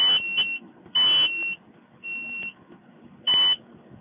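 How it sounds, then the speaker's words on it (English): A high electronic alarm in a planter cab beeps in four separate pulses of varying length, loud and near, with quiet engine rumble between them. "Hear that dinging noise in my sleep."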